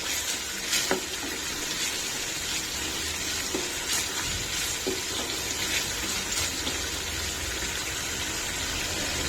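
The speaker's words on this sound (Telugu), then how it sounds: "ఇది కూడా మంచిగా కొంచెం వేగనిద్దాం." A green chili and amla chutney mixture frying in a pan, giving a steady, even sizzle throughout with a few faint clinks, no talking.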